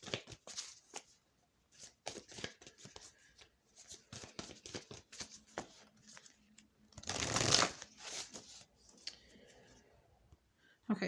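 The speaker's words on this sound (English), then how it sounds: "I did put them back in the deck and reshuffled" A deck of tarot cards being shuffled by hand, with repeated riffling and slapping bursts and a louder flurry near the middle, mixed with soft talking throughout.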